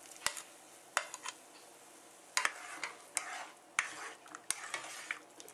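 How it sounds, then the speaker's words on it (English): Beef chunks are stirred in a pot, with a spoon scraping and clacking against the sides in irregular bursts over a quiet simmer. "So we will add our beef chunks back in."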